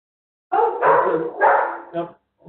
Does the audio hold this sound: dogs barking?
yes